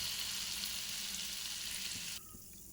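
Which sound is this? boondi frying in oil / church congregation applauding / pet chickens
boondi frying in oil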